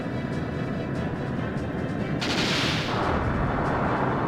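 A ship's sub-cannon fires in the Skies of Arcadia video game: a loud, sustained burst of booming blasts that swells partway through and stays dense and continuous to the end.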